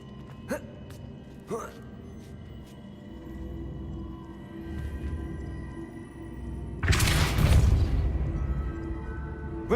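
A Depulso spell impact in Hogwarts Legacy lands as a sudden loud whooshing burst with a deep thump, following a few sharp clicks and a low ambient hum.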